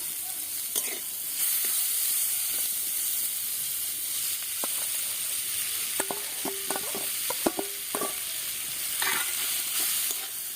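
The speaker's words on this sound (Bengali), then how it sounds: "ভালো করে একটু ভেজে নেব সব কিছু একসঙ্গে করে" Mashed boiled potatoes and spices frying in a kadai for paratha filling: a continuous close sizzle with sharp spatula scrapes and knocks clustered in the middle and later part.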